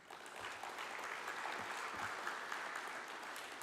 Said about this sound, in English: they deserve a big round hand of applause